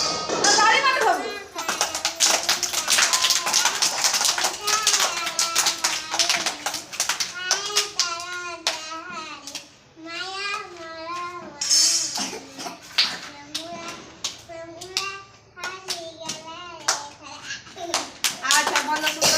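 Children sing a song together during a classroom activity, clapping their hands along in a steady rhythm; the clapping is close, mixed in under the singing, and an adult voice is heard at the start.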